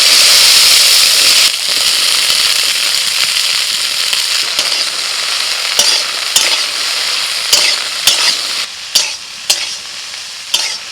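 Okra dropped into hot mustard oil in a wok, a loud close sizzle that settles into steady frying hiss, later punctuated by several sharp scraping stirs near the end.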